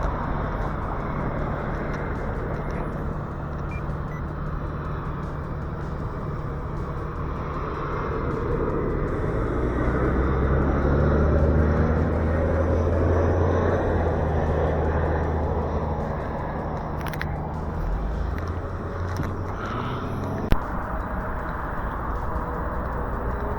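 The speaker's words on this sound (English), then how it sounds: "it kind of sounds like there's like a jet plane taking off." Jet plane taking off in the distance near Goleta, a broad, steady roar that swells gradually and then eases over more than twenty seconds of outdoor ambience, with no talk.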